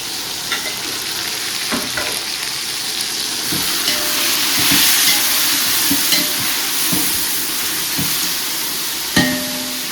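Tomatoes sautéing in a large pot for a big batch of mutton biryani, a loud steady hissing sizzle with scattered scraping knocks of a ladle stirring, heard close and without speech.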